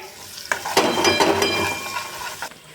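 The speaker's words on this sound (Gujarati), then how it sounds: "હવે એને હું એક મિનિટ હું સાતળી લઈશ ત્યાં સુધી ગોલ્ડન બ્રાઉન કલર ના આવે" Chopped onions sauté in oil with mustard seeds and asafoetida for restaurant-style chole, giving a close crackling sizzle that rises sharply as stirring begins, with a spoon clinking and scraping against the pan, then fading near the end, without speech.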